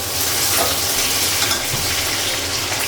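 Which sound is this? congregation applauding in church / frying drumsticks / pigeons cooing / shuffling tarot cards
frying drumsticks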